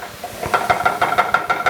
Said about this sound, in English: So you can get that frying off and add that colour.